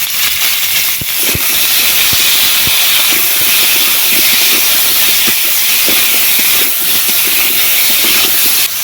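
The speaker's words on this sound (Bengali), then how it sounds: "এবারে দিয়ে দেবো কেটে রাখা আলুগুলো স্বাদ মতো লবণ" Potatoes, cut and salted, hit hot oil tempered with a dried red chilli and five-spice in a village kitchen, giving a loud, steady, close hiss of sizzling that fills the whole stretch.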